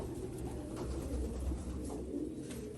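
A domestic pigeon coos in a loft, soft low repeated coos close by over a quiet background hum, with no talk.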